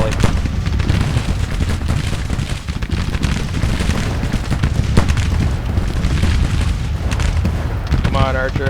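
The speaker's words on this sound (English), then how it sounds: "Let off a volley." Musket volleys and dense gunfire in Grand Tactician: The Civil War, a continuous loud barrage of booming shots across the battlefield with voices talking over it.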